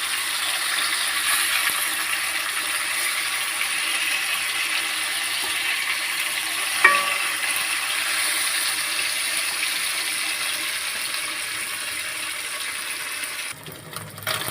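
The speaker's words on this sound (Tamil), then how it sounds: "நல்லா மீன் ஃப்ரை ஆகிட்டுருக்குது." Fish frying in a pan with homemade masala gives a steady, even hiss and sizzle throughout, close and moderately loud, with a brief faint clink partway through.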